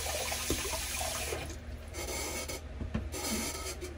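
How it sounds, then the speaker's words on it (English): A bronze safety razor is rinsed under a running tap, giving a steady broadband rush of water, close and fairly loud, with a few brief knocks and rubbing sounds as the razor is handled in the stream. "Rinse my razor out here."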